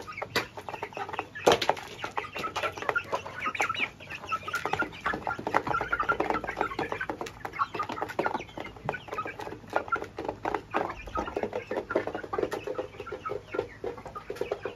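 Chickens clucking steadily in a backyard coop, a dense, continuous chorus of hens and a rooster, close and moderately loud throughout, with occasional wing flaps and no talking.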